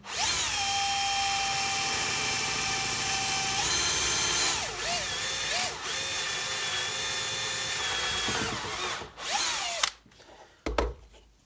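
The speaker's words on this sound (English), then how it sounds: "So we'll put that there, get the drill," An electric drill whines steadily as it bores slowly into wood against the grain, its pitch dropping and wavering under load before stopping with a few clunks.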